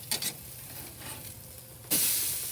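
Steaks sear on a very hot Char-Griller Gravity 980 charcoal grill, giving a steady close sizzle with a few brief crackles, then a sudden louder burst of hiss near the end.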